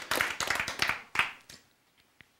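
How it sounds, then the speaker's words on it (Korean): A small group claps during a Bible and science lecture, a brief burst of quick, close handclaps that thins out and fades within about a second and a half. "박수"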